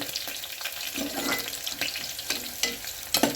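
Eggplant curry fries in a pan with a constant close sizzle, broken by a few brisk stirring strokes over a few seconds.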